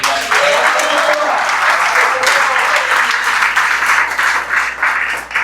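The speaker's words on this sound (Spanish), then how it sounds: "Dale un aplauso a Cristo." Loud, sustained applause from a church congregation during an evangelistic service, many hands clapping in a dense continuous wash that eases slightly toward the end, with voices mixed in.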